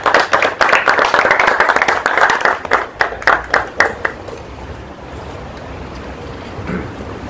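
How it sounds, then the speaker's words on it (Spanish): An audience at an architecture talk breaks into lively applause for a presenter, dense clapping for about four seconds that thins into a few separate claps and then fades to room quiet. "Entonces, le podemos dar un aplauso."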